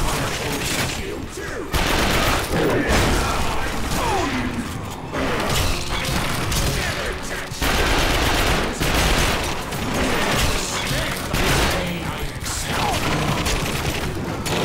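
Gunfire rattles through combat in the video game The Darkness 2, with dense, repeated automatic bursts and heavy impacts filling the scene almost continuously at loud, close level.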